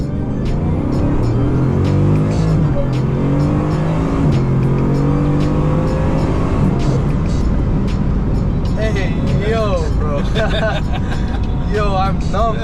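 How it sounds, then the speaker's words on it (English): A car accelerates hard with its turbo spooling, and the engine roar climbs in pitch before a downshift near the end, loud and close, while people talk over it. "you hear the turbo and stuff. But switch. And the downshift"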